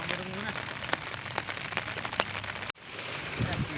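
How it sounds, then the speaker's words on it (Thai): Steady rain falling and pattering on surfaces outdoors by the water during a fishing trip, a dense continuous hiss with scattered drop ticks, briefly cut off near the end before resuming. "ฝนตกครับตกไม่หยุดครับตกทั้งวัน"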